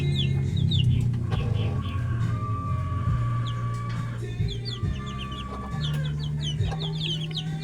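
A flock of chickens, roosters and hens together, cluck and chatter continuously nearby, with overlapping calls and a low, steady background hum.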